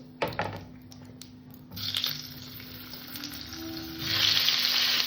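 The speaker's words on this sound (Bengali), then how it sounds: "ফুলকপি আলুটাকে আমি সুন্দর করে ভেজে নেব" Cauliflower and potato fry in hot oil with cumin, the sizzle starting with a few clinks and stirring sounds, then swelling into a loud hiss that grows stronger near the end.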